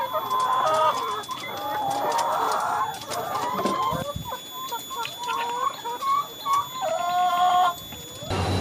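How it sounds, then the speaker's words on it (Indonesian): Laying hens in a poultry coop cluck and call continuously, a dense close chorus of clucks and short squawks from many birds, with a rooster-like crow rising near the end. "Ayam petelur ya sini."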